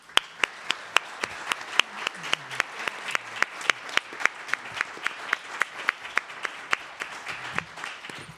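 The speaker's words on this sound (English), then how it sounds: "We'll give you a round of applause" A small audience claps after a panel discussion on the Green New Deal and environmental justice, with distinct separate hand claps in a steady rhythm, moderately near and alone.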